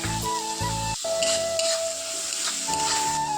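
Tomatoes go into a pan of onions and chillies while leftover rice is cooked into a dinner dish, giving a bright steady sizzle and hiss with some stirring, under a background music tone.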